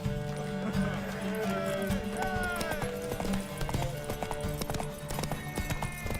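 Horse hooves clip-clop in The Witcher 3 video game, a steady trotting rhythm layered under game music and character voices speaking.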